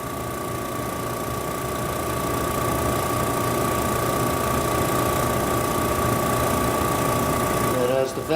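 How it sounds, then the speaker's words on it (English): A vacuum pump on a solid phase extraction instrument runs with a loud, steady mechanical hum and a constant whining tone, droning without pause for several seconds. "the vacuum pump kicks on"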